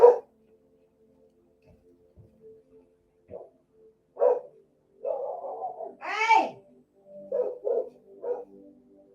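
A dog at home barks and yips a few times at moderate distance, mixed with a person shouting at it, the barks short and spaced over several seconds.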